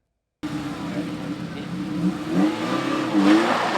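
Rally car engine revving hard on a woodland stage near Aldershot during the Rushmore Targa Rally, a steady mid-pitched drone rising in pitch and loudness as it accelerates, heard at moderate distance.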